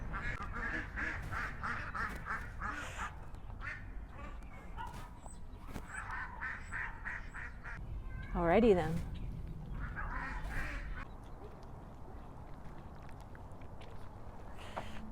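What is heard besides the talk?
ducks quacking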